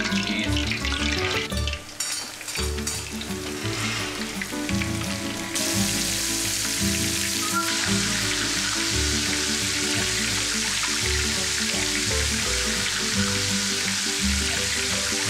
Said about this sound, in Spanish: Y los vamos a llevar a freír al mismo sartén donde están friendo los